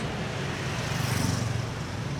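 Busy street traffic in Vietnam forms a continuous roar of engines and tyres, motorbikes and cars blending into a steady, dense wash of noise close by.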